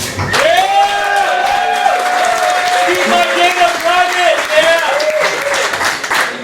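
A startup night crowd bursts into sustained cheering and applause, with loud whoops and high shouts riding over continuous clapping for several seconds.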